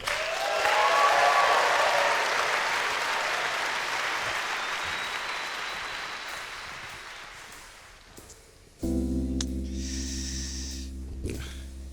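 A live audience at the Brooklyn Opera House applauds, a dense wash of clapping that swells early and slowly fades over several seconds before music starts up.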